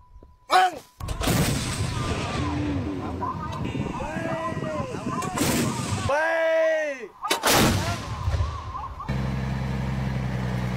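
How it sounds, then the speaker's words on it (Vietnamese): Anti-aircraft artillery with 37mm and 57mm guns fires during a Vietnamese air-defence drill against an air attack: loud, sharp booming bursts in quick succession, close by, with shouted commands and voices between the volleys. "các khẩu đội pháo 37mm, 57mm đều nhanh chóng phát hiện, bám bắt và tiêu diệt mục tiêu ngay từ loạt đạn đầu"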